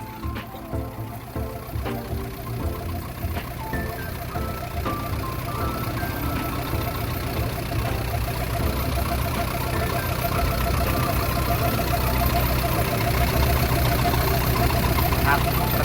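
The diesel engine of a 12-ton Caterpillar 312D excavator idles steadily and close by, a constant low rumble with a faint rhythmic knock, unchanged throughout.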